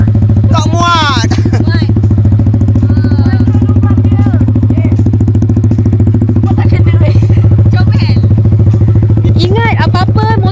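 A motorcycle engine runs steadily throughout a riding lesson, a constant low drone near and loud, with people talking over it.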